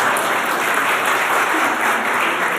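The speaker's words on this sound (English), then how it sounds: "I need a big round of applause here." Applause from an audience at a 40th-anniversary sister-city reception in Atlanta honoring OCAC coordinators: a continuous, even burst of many people clapping.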